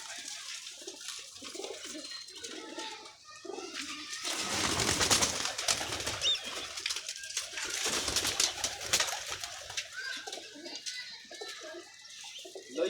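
Pigeons kept for flying coo softly in repeated low murmurs, with rustling and a voice speaking over them in the middle.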